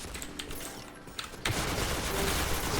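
An MP7 submachine gun fires in the Point Blank shooter game: after a quiet stretch with a couple of small clicks, a loud, dense automatic burst begins halfway through and continues to the end.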